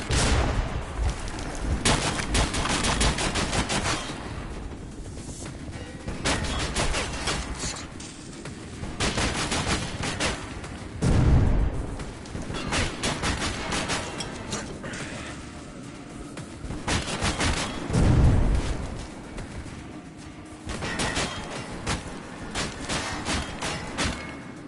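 Gunfire in Metro 2033 Redux: repeated bursts of rapid automatic fire come in waves, with heavy, booming shots punctuating the steady rattle.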